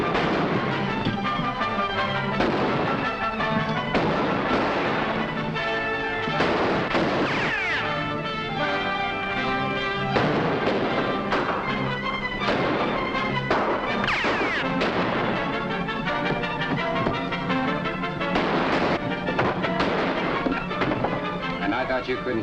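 A western film shootout fills the scene with repeated sharp gunshots and ricochet-like cracks at irregular intervals, loud and dense throughout, mixed with shouting, hoofbeat-like commotion and dramatic music, with voices speaking amid the fire.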